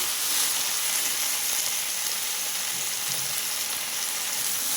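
Moringa leaves frying with sesame and other ingredients in a pan, a continuous dense sizzle and hiss, steady and close with no talk.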